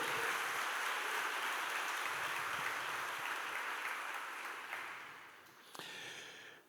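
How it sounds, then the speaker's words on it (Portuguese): A church congregation claps together in steady, dense applause that slowly fades, with a brief knock and some murmuring near the end. "e dá um aplauso ao Senhor."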